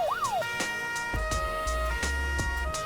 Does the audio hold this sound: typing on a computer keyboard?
no